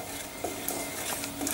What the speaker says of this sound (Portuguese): Vamos mexendo, sempre alumbrando para que não queime